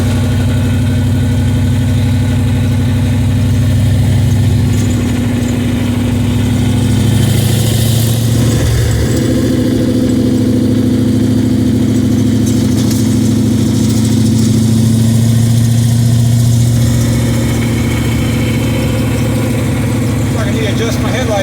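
A 1929 Ford Model A fitted with a big block engine and four-speed running on the road with a carburetor flat spot, a loud steady low rumble that rises and falls with throttle throughout, a voice briefly speaking over it.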